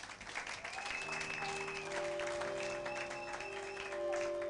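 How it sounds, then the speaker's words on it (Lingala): A church congregation applauds in praise of God, a broad continuous patter of clapping mixed with voices and sustained tones, with the level steady throughout. "Acclamez pour la gloire de notre Dieu"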